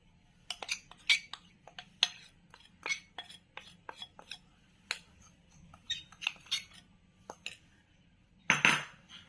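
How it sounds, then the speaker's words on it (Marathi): A spoon clinks and scrapes against a bowl while rava cake batter of semolina, curd and powdered sugar is stirred, giving a run of irregular sharp taps close by, ending in a louder rattle. "ह्याला चांगलं ढवळून घ्यायचं."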